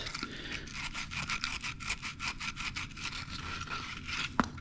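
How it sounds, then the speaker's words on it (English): A shower valve part is rubbed with sandpaper in quick, even back-and-forth strokes, a close scratchy rasp repeating steadily, ending with a small metallic tap. "we just hit the top with some of our sandpaper, hit the edges like that"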